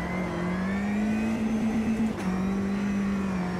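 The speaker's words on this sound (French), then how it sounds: "Vous entendez le rupteur." Race car engine in Automobilista 2 with a JGTC mod sits on the rev limiter, a steady droning buzz held for several seconds with one brief stutter, loud and alone.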